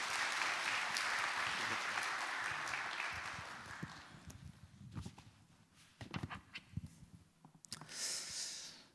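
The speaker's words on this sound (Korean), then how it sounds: "우리 박수로 고성준 목사님 환영하겠습니다" A church seminar audience breaks into warm applause welcoming a pastor, a full clapping wash that fades after a few seconds into scattered footsteps and light knocks in a hall.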